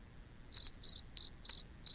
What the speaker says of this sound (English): Oh, man, I'm hearing crickets or something.